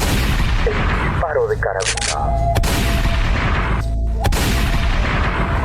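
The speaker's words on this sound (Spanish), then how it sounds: "El disparo de carabina." Two sharp, loud carbine gunshot cracks ring out a second or so apart over a dense, noisy rumble.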